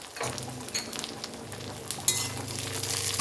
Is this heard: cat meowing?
no